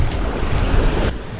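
Ocean surf on the Basque coast, a steady broadband wash of breaking waves mixed with wind rumbling against the microphone, loud and continuous throughout.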